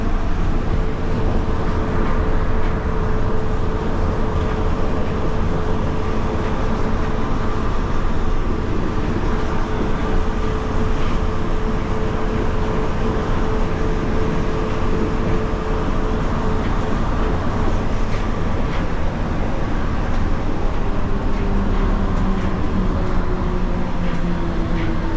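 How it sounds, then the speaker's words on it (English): Yurikamome monorail train running through Tokyo, heard from inside as a steady, loud rumble and whine of the moving car that holds unbroken for the whole stretch, with no talking. "Monorail."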